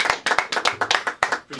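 Applause from a small audience during a casual hip-hop interview: sharp, uneven hand claps in quick bursts, close and fairly loud, with brief gaps between them.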